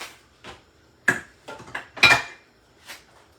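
A spoon stirs boiled macaroni noodles in a cooking pot, making a handful of irregular scraping clinks against the metal. The clinks are close and moderately loud, with quiet gaps between them and no voices.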